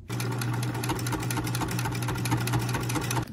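A sewing machine runs steadily, stitching around the outside edges of an all-cotton notepad holder, a loud, close, continuous rapid whirr and needle chatter with no pauses.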